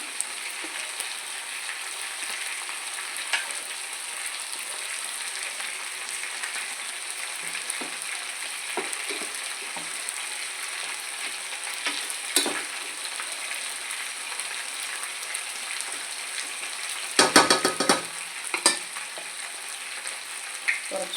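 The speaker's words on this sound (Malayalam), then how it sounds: "നമ്മുടെ മിക്സർ നല്ലതുപോലെ നമുക്ക് ഇളക്കി കൊടുക്കാം" A steady sizzle of a mixture frying in a pan, with occasional scraping and clinks of stirring, continuous and fairly close.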